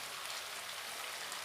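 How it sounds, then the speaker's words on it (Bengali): Water poured into a pan of vegetarian chana masala in a home kitchen, a steady hiss and splash throughout, even and moderately loud with no talk. "এবারে জল দিয়ে দেব।"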